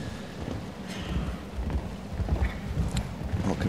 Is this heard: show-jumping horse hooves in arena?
yes